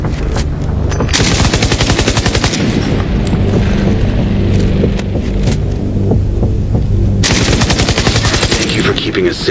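Automatic gunfire from the shooter game The Division 2 rattles in loud, dense, rapid bursts almost without pause, with heavy booming thuds underneath.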